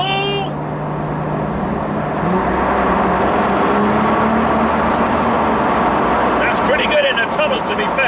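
A Nissan GTR from 2017 with a Stage 4 Litchfield upgrade and 675 bhp drives through a tunnel, its engine drone loud and reverberant. Voices talk over the steady roar, which gains a higher whine near the end.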